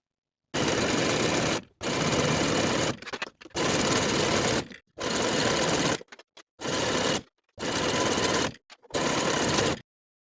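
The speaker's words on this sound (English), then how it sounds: "Sew both inseams with a 5/8 inch seam allowance." A sewing machine runs 5/8-inch inseams on jersey pants in seven loud, close bursts of rapid stitching, each about a second long, separated by short silent pauses.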